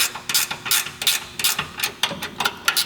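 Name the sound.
ratchet tightening 3/8 bolts on Jeep trackbar bracket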